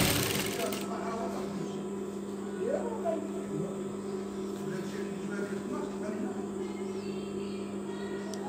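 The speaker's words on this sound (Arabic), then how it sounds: "دابا دخلت كنخيط الكول ديالي" A sewing machine stitches the collar of a Turkish double-breasted coat, a steady low mechanical hum under someone talking close by.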